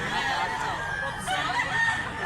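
A rooster offered for sale in Mantalungon, Cebu, lets out a short crow close by over a busy outdoor background.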